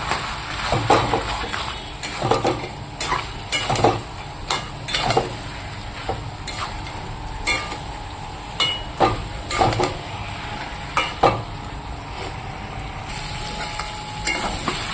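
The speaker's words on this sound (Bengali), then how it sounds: "এখানে ছোলা মটরটা কষানো হয়ে গেছে" Spicy chickpeas and peas are stir-fried in a pan, with a low steady sizzle under repeated close clinks and scrapes of a spoon against the pan in an irregular rhythm, no talking.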